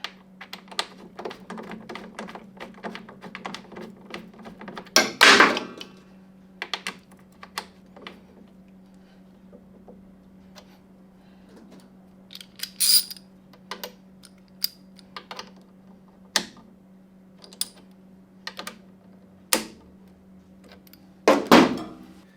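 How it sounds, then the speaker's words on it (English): A torque wrench tightens the front caliper bolts on a Ducati Panigale V4S to 33.1 foot-pounds, giving sharp clicks and taps spaced several seconds apart over a steady low workshop hum, with no talking. "So we got our torque wrench here, and try to do them evenly."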